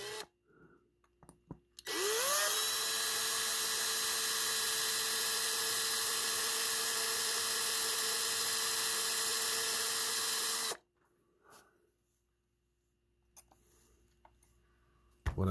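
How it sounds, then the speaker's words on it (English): A power drill runs steadily for about nine seconds, drilling out the post of a Hot Wheels 1972 Chevrolet Vega GT die-cast car. It is a loud, even whine that starts and stops abruptly, with quiet handling noises before and after. "We are going to drill and tap the post out first, Polly, before you do anything else to it."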